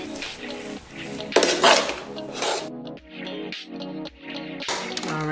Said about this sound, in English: We're gonna mix the butter in just to see the consistency of it.